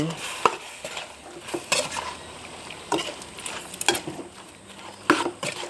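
Bamboo shoot chicken curry, a sour Isan dish, being stirred in a pot, with scraping sweeps and light clinks of the utensil against the pot at an irregular pace over a soft simmering sizzle, close up.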